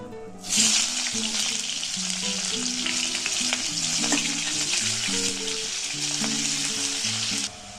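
Sliced onion frying in oil in a pan, with whole cumin and bay leaf added, makes a loud, steady sizzle for about seven seconds, broken by the scrape and stir of a spatula, close and without talk.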